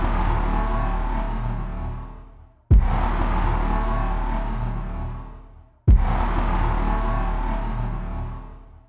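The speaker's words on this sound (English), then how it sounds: "So the impact I designed sounds like this." A sci-fi impact designed in Bitwig Studio strikes three times, each a sudden loud hit with deep sub-bass and a broad roar that slowly decays over about three seconds before the next blast.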